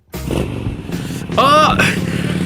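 Motorcycle engine starting and revving hard as it speeds off, a loud close rising whine under a voice, as a sound effect in an audio story.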